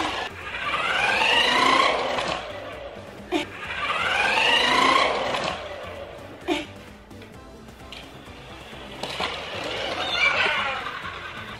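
A pink Silverlit remote-control off-road toy car drives with a whining electric motor that rises and falls in repeated bursts, close up, with brief clacks between runs.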